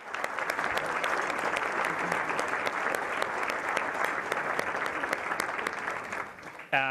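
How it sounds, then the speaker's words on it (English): A large audience at a tribute event gives a sustained round of applause, dense and continuous with individual sharp claps standing out, ending abruptly as a voice begins. "Let's give Henry a great round of applause."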